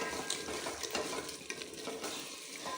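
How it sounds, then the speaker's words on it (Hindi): Garam masala and coriander powder roast in a pan with a dense continuous sizzle and soft scraping from stirring, close and steady, no talking. "मसाले को अच्छी तरह से भून लेंगे"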